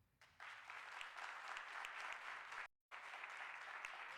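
An audience claps steadily at a film festival event. The applause is dense and sustained, breaks off completely for a moment, then picks straight back up at the same level.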